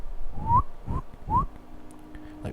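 A few short rising whistled calls, three in quick succession, made by a human voice imitating a wild call over low rumbling background.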